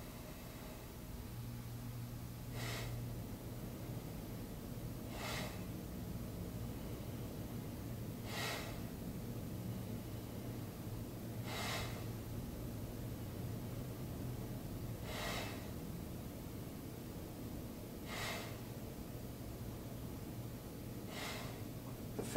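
Forceful rhythmic Bhastrika pranayama breaths, sharp noisy bursts recurring about every three seconds over a low steady background hum, fairly faint, with no talking.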